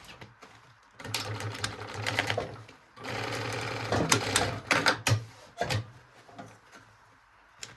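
A sewing machine stitches a drawstring backpack in two long bursts of rapid, steady whirring, separated by short pauses and followed by a few brief stop-start runs.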